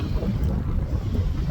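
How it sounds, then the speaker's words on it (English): Strong wind on Big Lake buffets the microphone in a loud, continuous low roar, rough and gusty throughout, with no voices. "got really windy, even worse"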